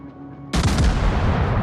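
Ship gunfire in the naval video game World of Warships, a sudden loud booming blast that cuts in abruptly and rolls on as a dense, rumbling roar.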